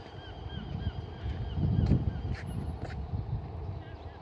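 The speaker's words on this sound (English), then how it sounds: "So seagulls are shouting at us at the moment." Seagulls calling around a tramway in Weymouth, several bird cries rising over steady outdoor background noise, with a person talking underneath.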